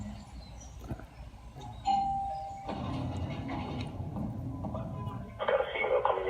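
A two-tone doorbell chime rings at a house door, fairly clear, with voices and room noise around it.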